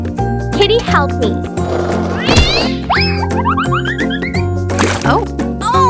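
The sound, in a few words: cat meowing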